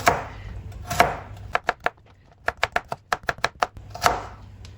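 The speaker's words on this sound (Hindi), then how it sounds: "अब इनके भी पीस इस तरह करेंगे। मैं कटिंग दिखा दूं आपको।" Chicken chopped into pieces with a knife on a board: a few heavy spaced chops, then a quick run of about a dozen sharp, close cuts, ending with more heavy strikes, no speech.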